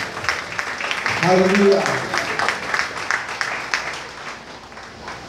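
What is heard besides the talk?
church congregation clapping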